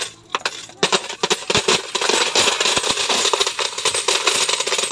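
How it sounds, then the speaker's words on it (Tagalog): A pile of coins drops and scatters, producing a rapid, irregular cascade of bright metallic clinks and jingles that goes on for several seconds. "So ayan, naglaglagan yung mga barya."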